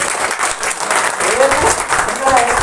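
Applause from the crowd at a community round-table meeting of Muslim backward classes, a loud, continuous burst of many hands clapping close by, with some voices mixed in.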